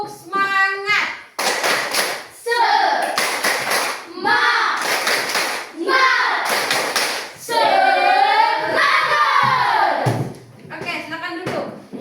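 Children in a classroom play a clapping rhythm game, with sharp bursts of group hand claps alternating with chanted young voices calling out together, loud and close throughout.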